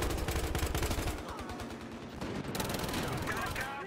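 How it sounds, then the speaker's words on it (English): Gunfire from the Battlefield Hardline multiplayer video game on PS4 rattles in dense rapid bursts at moderate level, with a sharp blast near the end amid game noise. "he missed with shotgun"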